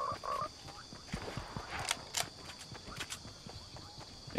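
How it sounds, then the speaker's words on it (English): Frogs croak repeatedly in Fortnite, a few distinct calls rising above steady ambient noise, with soft clicking steps scattered throughout. "The frogs."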